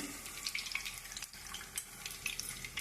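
Puffed rice (murmura) with green chillies frying in a pan, giving a light crackle and sizzle with irregular rustling stir sounds and small pops, moderately close and without speech.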